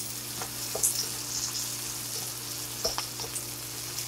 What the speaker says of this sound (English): I got some dried red chilies. I'm gonna go ahead and toss that in there with that